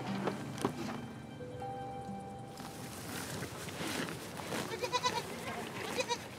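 Goats at Al-Ayn Oasis bleat while being fed a ration of sardines and dates, with several bleats in the middle distance over a busy background.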